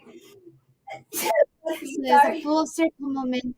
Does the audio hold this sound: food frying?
no